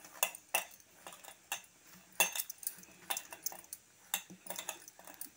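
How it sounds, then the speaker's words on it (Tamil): Mashed potato vada mix with spices, salt and bread crumbs stirred in a bowl with a spoon, with soft repeated scrapes and light clinks of metal against the bowl, close and fairly quiet, with no talk. "ஸோ இதை நல்லா கலந்து விட்டுக்கலாம்"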